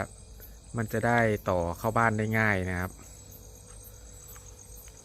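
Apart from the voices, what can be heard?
crickets chirping at night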